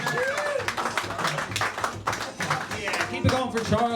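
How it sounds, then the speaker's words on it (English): A comedy club audience in New York claps steadily between acts, a dense patter of hands holding at an even level with scattered voices mixed in. "Okay, we keep clapping."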